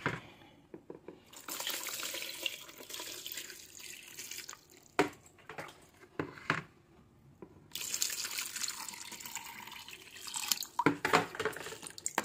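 Garlic water made from three large heads of garlic, about 2 liters, is poured through a strainer as an organic insecticide. It makes a steady splashing, trickling flow with a brief pause in the middle, then resumes loudly.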